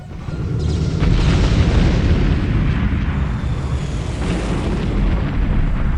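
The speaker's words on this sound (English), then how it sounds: "Oh, listen to that Wraith noise. There's plasma fire everywhere." Plasma weapons fire in a Homeworld 2 Stargate space battle with Goa'uld and Wraith ships, a loud, sustained roar of booming blasts and crackling bursts that swells after the first second and rolls on without pause.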